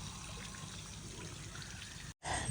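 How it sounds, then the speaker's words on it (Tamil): Irrigation water rushes fast along a field channel, a steady close babbling trickle and gurgle that continues throughout, broken by a very brief dropout near the end. "தண்ணியை பாருங்கள் எவ்வளோ ஸ்பீடாக சலசலன்னு போய்கிட்டு இருக்கு"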